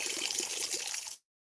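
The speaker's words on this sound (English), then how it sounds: "All right, so shake out some water from that here. Okay, you pour it out." Water poured out of a chalice, a steady close splashing stream that runs for about a second, then stops abruptly before a brief final splash.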